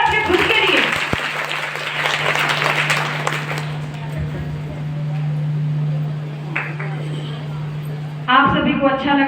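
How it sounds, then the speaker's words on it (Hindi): An audience at a motivational speech for students breaks into loud applause that swells and then slowly fades, with voices briefly speaking near the end. "एक बार जोरदार तालियां बजाइए अपने खुद के लिए।"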